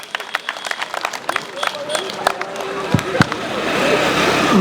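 Crowd applause and cheering for Rwanda's president at a public gathering, a dense wash of clapping that swells and grows louder toward the end, with voices mixed in.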